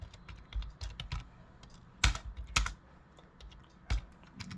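Program code being typed on a computer keyboard, close clusters of quick key clicks with a few heavier thumps like the space or enter key, irregular rhythm, no talking.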